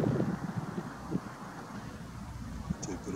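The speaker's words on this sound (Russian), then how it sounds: "Ну вот ветер поднялся." Wind blows outdoors at night, a low rumbling buffeting against the microphone that gusts unevenly throughout, close and moderately loud with no voices.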